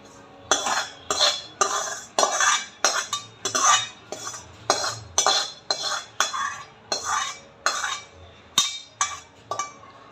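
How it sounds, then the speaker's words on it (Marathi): Fried sprouted-bean usal being scraped out of a wok into a dish, a steady run of close, loud metal-on-metal scrapes and clinks in quick rhythmic strokes. "आता मी एका डिशमध्ये काढून घेते"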